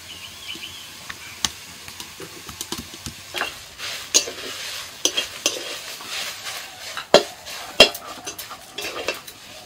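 Onions dry-fry without oil over a very low flame for an oil-free egg biryani, as a utensil stirs and scrapes the pan in close, irregular clinks and scrapes over a faint, soft sizzle.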